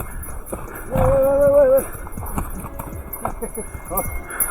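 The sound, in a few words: horse hooves walking on a glacier trail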